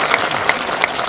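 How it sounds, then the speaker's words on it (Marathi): Audience clapping hard at a kirtan gathering, dense crowd applause held loud and steady throughout a short burst, no voices. "जोरदार टाळ्या वाजवा."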